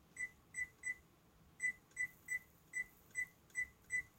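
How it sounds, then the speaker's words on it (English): A kitchen timer being set, sounding short high electronic beeps in quick groups of two and three, clean and fairly faint in a quiet room. "So let me put the timer on."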